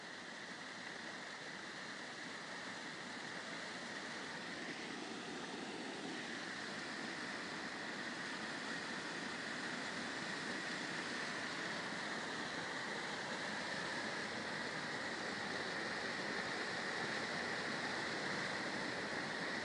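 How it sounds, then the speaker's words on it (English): Fast, aggressive running water at a canal after heavy rain, a broad steady rushing roar that stays constant and close with no voices. "Have a nice sound of running water."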